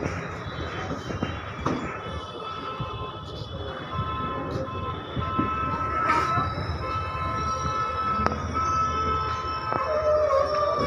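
Indian Railways train 5506 departing Lakhimpur, with a continuous loud rumble and rattle of rolling cars, sharp clanks from wheels and couplings, and a faint horn-like tone, steady throughout at close range.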